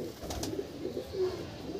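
Andhra Kalanka pigeons in a loft give low, soft coos, a few short murmurs close by with no voices.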